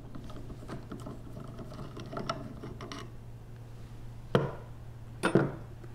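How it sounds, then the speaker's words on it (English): Small jam nut being worked off inside the cap of a pressure washer unloader valve, scattered close metallic ratcheting clicks and scrapes over a steady low hum, ending in two louder clunks. "There's a jam nut inside the cap that you have to remove."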